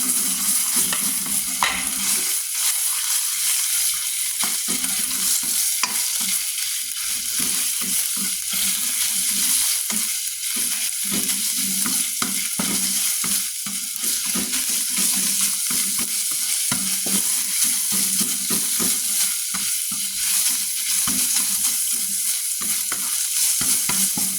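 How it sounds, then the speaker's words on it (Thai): Pork stir-fried in a pan for a Thai long eggplant dish, a loud continuous sizzle broken by repeated scraping strokes of a spatula, close up and without speech. "เราก็ใส่หมูลงไปนะคะ"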